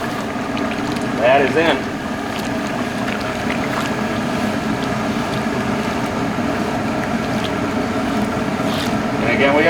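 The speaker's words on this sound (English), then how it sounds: "So I got a pretty good boil here." Water with almonds, sugar and salt boils in a pot over a medium-to-high fire on a modified cooker, a steady bubbling rumble with a low roar running throughout and brief talk near the start.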